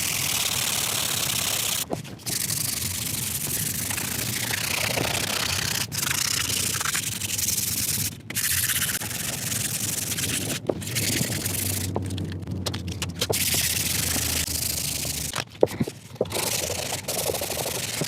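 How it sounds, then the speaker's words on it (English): Steady abrasive sanding on an antique turn-of-the-century hand-carved wooden dog chair, a loud continuous rasp with brief pauses as the sander lifts, and no talking. "I just hate to even start sanding on that"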